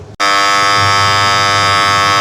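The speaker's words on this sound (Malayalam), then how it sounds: "ഏകദേശം വാഷിംഗ് കഴിയാറാകുന്ന സമയത്ത് തന്നെ ഇതുപോലെ ഒരു സൗണ്ട് ഇങ്ങനെ അലാം പോലെ കേൾക്കുന്നതാണ്" A semi-automatic washing machine sounds its end-of-wash alarm: a loud, steady electronic buzzer tone with rich harmonics that starts abruptly after a brief gap and holds continuously, with no talking.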